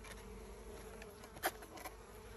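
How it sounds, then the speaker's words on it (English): Honey bees buzzing around a beekeeper installing a new queen, a faint steady insect drone with one brief louder pass as a bee flies close. "There's a bee on me."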